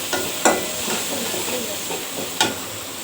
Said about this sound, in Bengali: এই যে দেখেন আমি টমেটো সব মশলার সাথে টমেটো আমি কষাই নিতেছি।